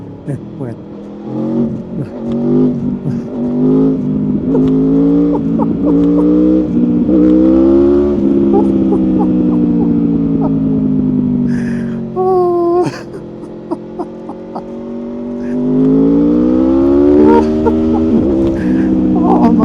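A 2025 Aprilia Tuono V4 Factory motorcycle engine revs loud and close, its pitch climbing and falling through gear changes in a long, continuous howl.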